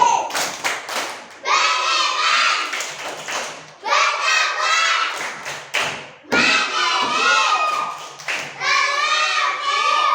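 A school class performs the tepuk visi clapping chant, children's voices chanting loudly in bursts, punctuated by sharp rhythmic claps and thumps between phrases.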